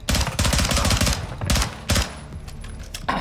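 AK rifle fire in Call of Duty Modern Warfare II comes in several rapid automatic bursts separated by short pauses, sharp and punchy, at a moderate level.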